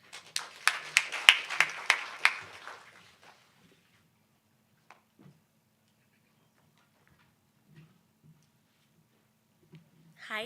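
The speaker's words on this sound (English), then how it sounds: "A round of applause for that." Audience applause at a Kenyan adaptation leadership event: a brief burst of clapping that fades out within about three seconds, followed by near silence with faint scattered knocks.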